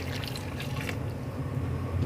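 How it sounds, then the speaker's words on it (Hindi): A cup of water poured into a cooking pot, giving a short gurgling splash that fades into a light trickle, fairly close and without speech. "और 1 कप इसमें डाल देंगे पानी"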